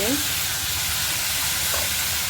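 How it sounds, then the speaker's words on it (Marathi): Tomatoes tipped onto browned onions frying in a pan, a loud, even broadband sizzle and steam hiss filling the whole short stretch, close and continuous with no talk. "कांदा चांगला आपला गुलाबी झाला आहे आता त्याच्यावर टॅमॅटो टाकूया"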